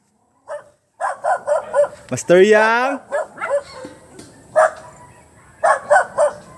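Several sharp dog barks come in quick bursts, with one long howling whine in the middle, as a man calls out loudly between them, at night during a spearfishing trip.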